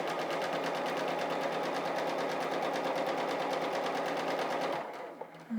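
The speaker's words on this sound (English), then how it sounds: "Okay, stitch off and onto a little scrap." A sewing machine stitches quilt squares for a crazy quilt in a steady, rapid mechanical whir that runs close and loud for several seconds, then stops abruptly near the end.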